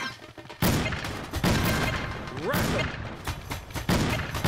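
Rapid automatic shotgun blasts from Cabela's Dangerous Hunts 2011, a burst of loud booming shots with thuds and crashes, a brief spoken word in between.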